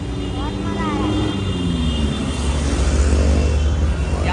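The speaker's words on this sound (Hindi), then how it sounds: "भाई गाड़ियाँ ऐसे निकल रही हैं, बम बम इधर से बहुत ज़्यादा शोर की आवाज़ आ रही है" Heavy road traffic heard from inside a moving pickup, a loud continuous low rumble of engines and tyres with passing vehicle tones sweeping by, while people talk over it.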